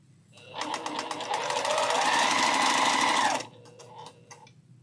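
A sewing machine stitches a 1.5-inch quilt strip onto a pink quilt block in one fast, steady run of about three seconds, then slows to a few separate clicks before stopping.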